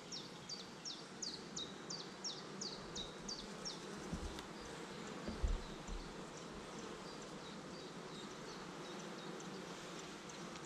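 Honey bees swarm around an open hive frame during a beekeeper's inspection, a dense, continuous buzzing drone with faint chirping birds in the distance and occasional handling bumps.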